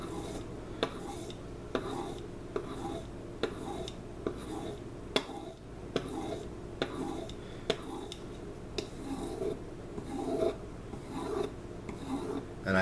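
Knife blade, freshly sharpened, drawn back and forth across a leather strop in close, steady rasping strokes with a slight tap at each turn; a faint voice is present in the background.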